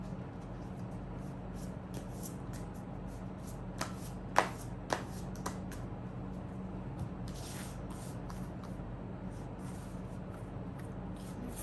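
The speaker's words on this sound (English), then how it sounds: "let me just take out cards for people who've chosen pile number 3" Tarot cards being shuffled and drawn from a deck, giving a soft continuous riffling rustle with a few sharp flicks and snaps standing out, close and fairly quiet with no talk.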